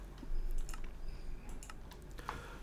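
Rapid clicking keystrokes on a computer keyboard, close and fairly quiet, in irregular bursts with brief pauses and no talking.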